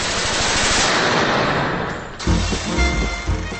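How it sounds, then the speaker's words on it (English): A Tommy gun fires in a long, roaring automatic stream, followed by a few shorter, heavy bursts with deep thumping reports. "The Tommy gun became an icon of death and destruction"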